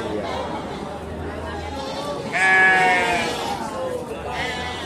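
A young sheep gives one clear, loud bleat in a livestock pen, rising above a steady murmur of background voices and farm chatter.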